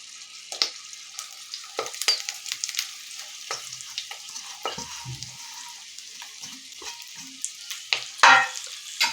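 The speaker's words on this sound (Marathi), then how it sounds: "मसाला घातला की असं हलवून घ्यायचं आहे" Capsicum frying with masala in a pan, stirred with a spoon, giving a steady close sizzle broken by scraping and stirring clatters and a louder burst near the end.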